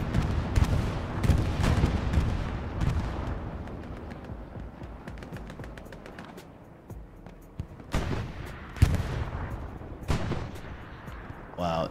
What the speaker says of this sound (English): Now, bombing run. Right directly below us.